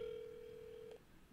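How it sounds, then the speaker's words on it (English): A telephone call to a Dairy Queen restaurant: one steady, clear ringback tone holds for most of a second, then cuts off abruptly, leaving quiet background. "You think he's going to answer the phone?"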